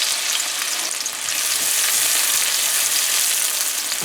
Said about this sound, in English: So we're going to fry up our onion here for about 45 seconds to a minute.